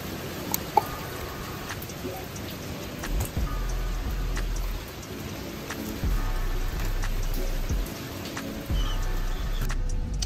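Rain falling outside while a Mercedes ML55 AMG has its oil changed, a constant patter of drops with a few low thumps and clicks from the work on the car, no voices.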